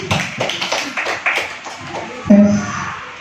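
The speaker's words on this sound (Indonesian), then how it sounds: "Tepuk tangan." An audience claps at a school teacher-training event, with scattered taps and claps in a short burst of several seconds at moderate loudness, followed by a brief ringing tone near the end.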